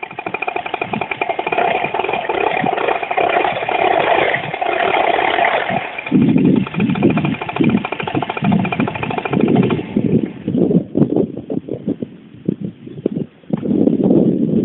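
A freshly rebuilt paramotor engine with a new cylinder jug, piston and rings runs loud and close. It is a harsh, buzzing two-stroke drone that sputters and revs unevenly partway through, with no voices.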